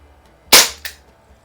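A Crosman Vigilante .177 CO2 revolver styled after the Colt Python fires a pellet: one sharp, loud pop followed by a fainter crack of impact a moment later, then quiet.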